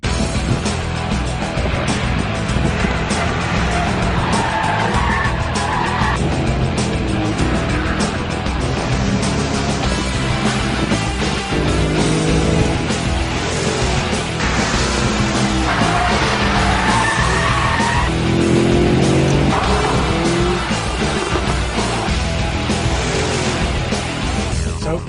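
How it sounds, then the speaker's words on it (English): A Mercedes SLS with a front-mounted, naturally aspirated 552-horsepower V8 is driven hard on a race circuit, its engine roaring continuously and loudly with tyres squealing through corners. "Ben's just been out in the Mercedes SLS."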